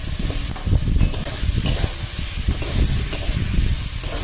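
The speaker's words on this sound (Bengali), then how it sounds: "আলুটা দিয়ে মশলার মধ্যে মিনিট 2 একটু লো থেকে মাঝারি আঁচে কষিয়ে নেব।" Fried potatoes stirred into a sizzling spice masala of cooked-down tomatoes in a pan over low to medium heat, a close, loud hissing sizzle with rhythmic scraping and stirring knocks.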